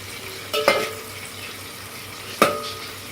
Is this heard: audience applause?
no